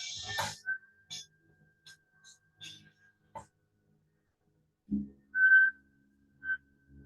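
Short, quiet whistled notes during Kundalini yoga practice come in a few scattered bursts, separated by long silent gaps, with a faint soft sound in the background.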